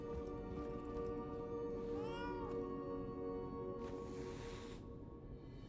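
A cat in the video game Lies of P lets out a drawn-out, wavering meow over a dense, steady background of game music and ambience. A second, breathier cry follows a couple of seconds later.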